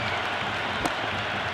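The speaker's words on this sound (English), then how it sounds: "There's a buzz, a real buzz coming from the stands." Stadium crowd in the Cricket 26 video game, a dense, continuous wash of distant cheering and applause with one brief sharper burst.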